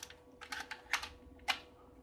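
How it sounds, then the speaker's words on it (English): A tape cartridge is pushed into the drive of a Tektronix/Intel DAC 9100 mainframe, giving a few sharp plastic clicks and clacks spaced irregularly over about two seconds, close and fairly quiet. "Put the tape in like that,"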